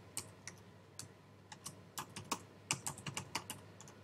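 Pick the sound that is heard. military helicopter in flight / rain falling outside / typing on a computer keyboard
typing on a computer keyboard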